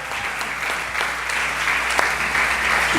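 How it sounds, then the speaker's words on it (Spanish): A church congregation claps together during a lively service, a full, continuous round of applause with a few sharper nearby claps standing out, heard alone without speech. "Denle un aplauso."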